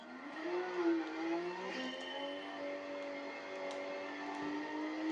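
Porsche 911 RSR race car engine in Gran Turismo 7 on the Nürburgring Nordschleife, a steady high-revving drone with rising and falling pitch as it accelerates and shifts, loud and continuous with no talk.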